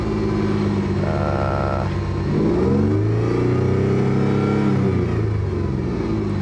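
A 1994 Toyota 4Runner engine is revved up and down, bogging as its pitch rises and sags unevenly while it struggles, loud and close with no talking.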